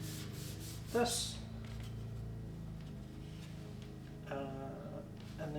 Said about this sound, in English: Then I'm going to sand it so that it looks more like